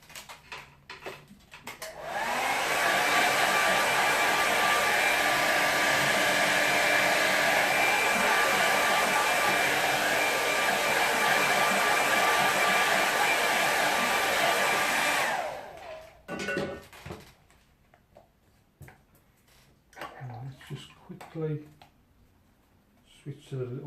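A hair dryer blows steadily on a watercolour painting of Kingsbury Water Park, a loud continuous whir running for about thirteen seconds and then cutting off, followed by quiet studio sounds.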